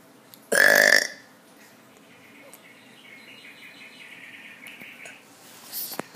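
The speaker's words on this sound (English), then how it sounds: "Let's do another burping video." A single loud, deep burp erupts near the start, followed by quiet room tone with a faint chirping bird-style clock sound running underneath and a brief rustle at the end.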